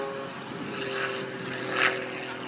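A full-size propeller airplane drones overhead during a model air show at Weston Park, a steady engine hum that swells slightly as it passes, with no talk.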